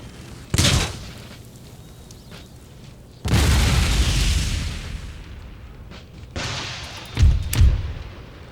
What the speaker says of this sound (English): They're actually firing against the wall here, which is fine.